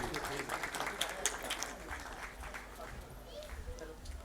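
Applause from a congregation at a Thanksgiving First Holy Mass as a gift is presented to a priest, steady scattered clapping with a voice talking over it.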